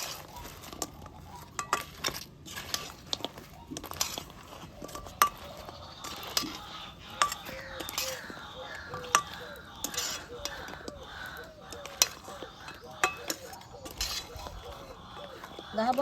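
A spoon stirring atta khurma through sugar syrup in a pan, with soft irregular clinks and scrapes of metal against the pan, fairly quiet and close.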